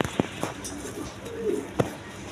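A pair of Lahori toy pigeons coo nearby in soft, low, rolling bursts among brief knocks and rustles, quiet in a faint room hum.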